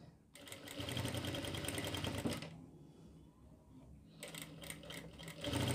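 A sewing machine stitches a kalidar short kurti, close rapid mechanical clatter in two runs separated by a quieter pause, with no talk.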